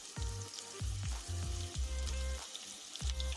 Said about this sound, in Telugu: కొంచెం దోరగా వేయించుకోవాలి పచ్చిమిరపకాయలు. కాసేపు అలా వేగనివ్వండి.